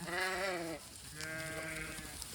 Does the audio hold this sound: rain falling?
no